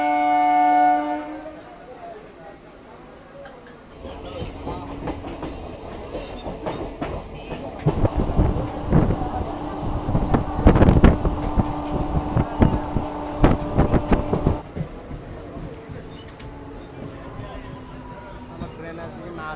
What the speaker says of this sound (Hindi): ट्रेन आसिक माधपुर रेलवे स्टेशन में पहुंच जाए।